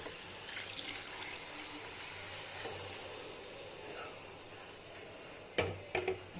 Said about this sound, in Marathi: तर आपण गरम पाणी भाजीमध्ये घालू।